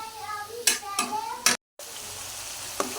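Dried fish and onion fry in oil, a low sizzle with a few sharp scrapes of stirring, close by, and a brief silent gap partway through.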